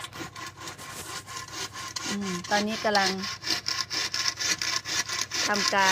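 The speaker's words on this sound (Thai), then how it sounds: "เลื่อยไม้ไผ่อยู่นะคะ" Rhythmic back-and-forth sawing through bamboo into short sections, steady rasping strokes close by, with someone talking over it.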